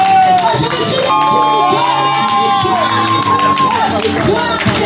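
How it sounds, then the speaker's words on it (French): A gospel service congregation cheers and acclaims loudly and continuously, with shouts and whoops rising over a dense crowd roar and a sustained sung or shouted tone, very close and full. "On fait l'acclamation au roi."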